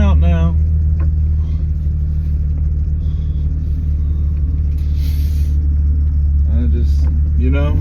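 A 2000 Jeep Cherokee engine runs steadily while driving, producing a loud, constant low rumble with road noise throughout, and a voice speaks briefly over it near the start and end.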